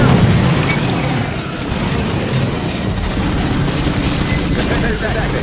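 Heavy gunfire and a grenade blast in the Aliens Fireteam Elite shooter game, with dense, loud bursts of shots and booms rolling together continuously.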